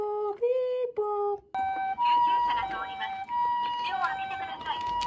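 A voice imitates an ambulance siren's two-tone wail in a children's animation, followed by a synthetic siren-like tone cycling high and low amid busy cartoon sound effects, moderately loud and brief.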